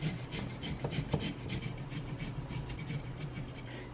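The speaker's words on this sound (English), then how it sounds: "So now I'm going to grate my turmeric over top of both of these with my very handy" Fresh turmeric root is rubbed across a small hand grater in quick, even rasping strokes, close and clear with no talking, over about four seconds.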